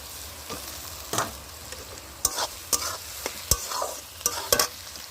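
Chicken fries in a pan as tomato goes in, a low sizzle under a string of sharp, irregular scraping and clanking stirring strokes close by.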